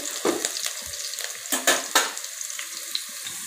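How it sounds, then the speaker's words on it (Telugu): Onions frying with salt in a pan, giving a bright continuous sizzle broken by a few sharper stirring scrapes and spatula knocks, close and clear with no talking. "ఇందులో ఫ్రై చేయాలి. కొంచెం సాల్ట్ వేస్తే త్వరగా ఫ్రై అవుతుంది ఆనియన్స్."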